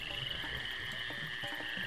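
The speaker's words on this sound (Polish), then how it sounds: "Już, jest żaba." In the video game Evil Islands, a frog croaks in a steady, buzzing chorus that keeps going without a break, fairly loud and close, with soft scattered game sounds underneath.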